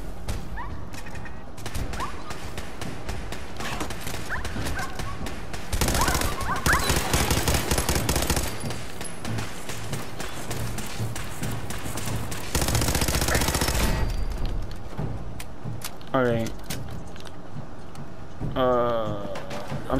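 Automatic gunfire in Fallout 4, loud rapid bursts that run almost continuously, with heavier volleys in two stretches and a few short electronic game tones near the end, while a player talks over the action.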